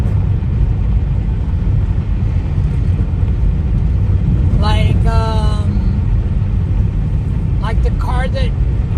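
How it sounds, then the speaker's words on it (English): A Subaru Forester drives along a dirt road with a steady, loud low rumble of engine and tyres, while brief bird chirps sound faintly in the background. "going down this dirt road. Subaru Forester is made for stuff like this"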